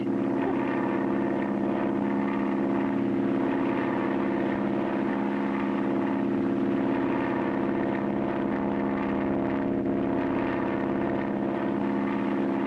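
Seaplane coming down at speed for a power landing on water on one float, a steady loud engine drone with propeller hum holding throughout, no voices.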